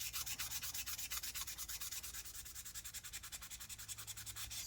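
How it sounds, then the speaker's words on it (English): Rapid back-and-forth sanding of a molded car interior panel for a Pontiac Fiero, smoothing away a knife-trimmed mold line; steady, close scratchy strokes in a quick even rhythm, with no talking. "Now we're just going to sand it down to get rid of any"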